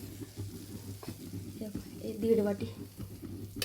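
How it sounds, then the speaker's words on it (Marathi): Semolina roasting in ghee in a kadai over low heat, soft sizzling with stirring scrapes close by, under a woman's quiet speech. "याला चांगलं असं कमी गॅसवर भाजून घेऊया आपण"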